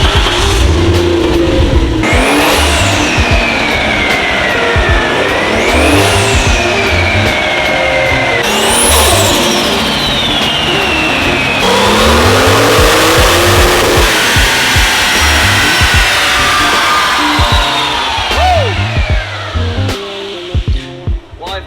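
A BMW E36 wagon running on pump ethanol accelerates on the road, its engine climbing in pitch through several gear changes with falling drops between pulls, loud and steady, a voice briefly heard over it near the end.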